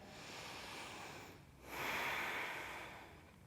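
Deep breathing held in a reverse tabletop pose during a vinyasa yoga flow: a soft close exhale through the nose, a brief pause, then a louder, airy breath fading out.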